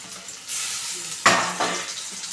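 A green chili, salt and coconut paste being stirred into ridge gourd and tomatoes in a pan, with a soft sizzle and a couple of distinct scraping strokes against the pan up close.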